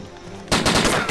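Gunfire in the survival video game DayZ: a quiet lull, then a sudden loud burst of rapid shots that keeps rattling densely through the rest of the moment.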